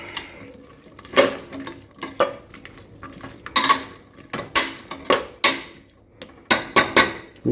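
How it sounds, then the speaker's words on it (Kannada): Metal spoon stirring drumsticks into vegetable sambar in a pot, with repeated clanks and scrapes against the pot in an uneven rhythm, some sharp and close, others softer. "ನುಗ್ಗೆಕಾಯಿ ಇಷ್ಟು ಹಾಕಿ ಸ್ವಲ್ಪ ಅದನ್ನ ಚೆನ್ನಾಗಿ ಮಿಕ್ಸ್ ಮಾಡ್ಕೊಳ್ಳೋಣ"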